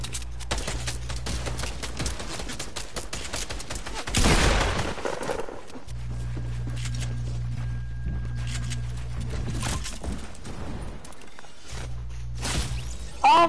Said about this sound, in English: Of course they shoot me in the air, why wouldn't they?